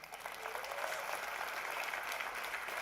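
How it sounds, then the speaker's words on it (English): An audience at a speaking event claps in a steady, dense burst of applause that builds slightly and holds, fairly faint and distant. "Give you all a round of applause for coming."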